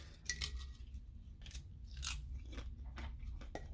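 Someone bites and chews a salty dehydrated zucchini chip close up, with a run of sharp dry crunches and crackles over several seconds.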